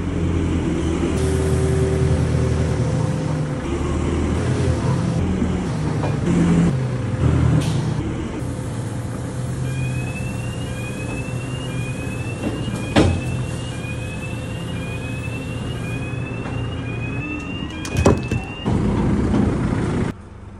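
A French lorry rumbles past on a farm road, a steady broad engine and tyre roar that holds loud and close throughout, with a brief sharp hiss or clank near the end.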